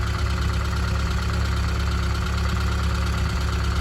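A 1978 Triumph Spitfire 1500 engine idles steadily once warmed with the choke closed, a close, even, continuous mechanical hum and throb with no speech.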